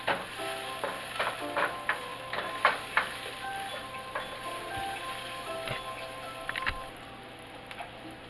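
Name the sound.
onions sauteing in a pan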